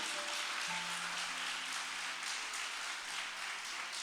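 A church congregation applauding during a sermon, a dense, even patter of many hands clapping that holds steady from start to end, with no voices over it.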